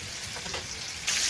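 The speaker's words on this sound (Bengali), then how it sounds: "তেল গরম হয়ে গেছে। এখন মাছগুলো দিয়ে দিলাম।" Tilapia fish sizzles as it fries in hot oil, giving a soft, even crackle that grows brighter and louder for the final moments.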